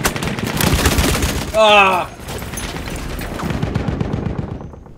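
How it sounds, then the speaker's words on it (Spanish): Gunfire in the Battlefield 1 video game comes as sharp crackling shots and a dense burst of fire, loud and close at first, then fading into distant popping. A player's voice exclaims and talks over it. "Me está disparando uno por la espalda."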